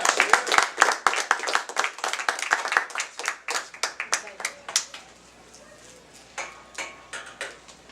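Audience applause at an open mic night: a burst of dense hand clapping that thins into scattered individual claps, with some voices in the room underneath.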